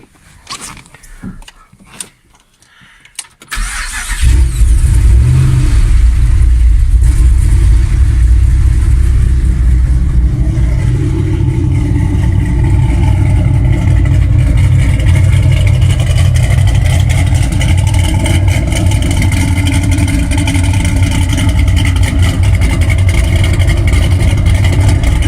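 A 2006 Chevrolet Impala SS converted to a rear-mounted engine cranks briefly after some handling noise, then fires up into a loud, steady, rumbling idle with rev blips, close and alone, holding for about twenty seconds.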